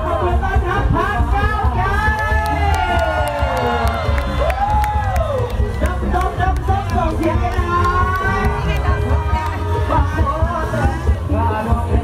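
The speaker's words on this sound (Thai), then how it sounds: "ขบวนขอเสียงปรบมือต้อนรับพรรคก้าวไกล" A crowd at a Pattaya Pride festival parade cheers and whoops to welcome the Move Forward Party, a dense, loud and continuous roar of shouting and babble with scattered claps, as an amplified voice talks over it.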